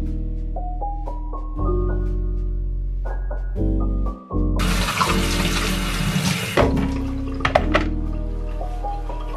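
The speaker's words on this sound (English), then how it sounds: "I finished washing all the Tupperware." A kitchen sink tap runs while Tupperware containers are washed, with water pouring and splashing close by and changing pitch as the containers fill, then a louder gushing spray.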